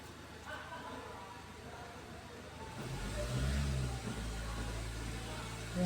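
A Ford Everest engine held at about 2,000 RPM, a low steady hum that swells louder partway through, close by, with a voice speaking over it.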